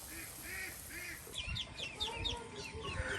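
Domestic ducks kept by a grandmother call out close by in a rapid run of nasal quacks and clucks, moderately loud over a low outdoor background.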